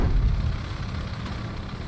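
Steady low rumble of a heavy vehicle engine in a video game, droning continuously at close range with no talk over it.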